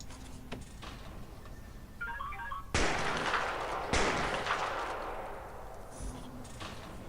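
Shotgun blasts in the prison-management game Prison Architect: two abrupt bursts of broadband noise with long, slowly fading tails, amid soft clicking interface ticks and faint game ambience.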